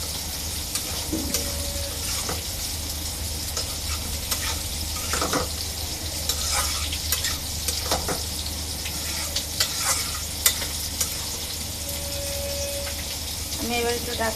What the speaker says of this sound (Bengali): পেঁয়াজের সাথে ভালো করে বাইং মাছটা একটু কষিয়ে নিতে হবে।